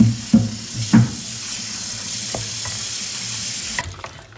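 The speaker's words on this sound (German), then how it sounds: "So, einmal umrühren." Homemade Italian tomato sauce made from fresh tomatoes is stirred in a pot, a couple of soft scraping strokes near the start and then a faint, steady simmering bubble underneath.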